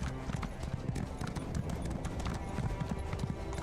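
Horse hooves clip-clop steadily in Elder Scrolls Online, a continuous trotting rhythm at close range over a busy game soundscape, with faint voices now and then.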